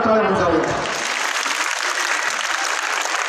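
Audience applause at a Ganesh festival prize distribution ceremony, loud dense clapping that swells quickly and holds steady to the end, with some voices mixed in at the start.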